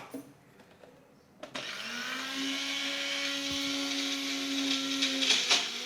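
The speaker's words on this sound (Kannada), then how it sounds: "ಸಾರು ರುಬ್ಬಿ ಆಯ್ತು." An electric mixer grinder grinds ingredients for upsaaru, a Karnataka gravy, switching on with a click and then whirring in a steady, loud high-pitched drone for several seconds before it slows.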